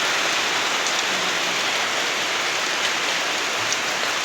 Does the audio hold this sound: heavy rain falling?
yes